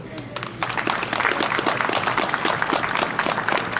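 Audience applause for participants of the Bihać–Srebrenica 2020 memorial marathon, dense steady clapping from a crowd that starts abruptly and carries on loudly throughout.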